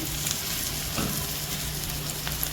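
Masala with ginger and garlic fries in a pan over medium heat, giving off a constant, even sizzle with faint crackles. It sounds close, with no voices.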